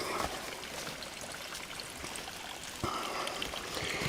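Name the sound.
water stream pouring from spring pipe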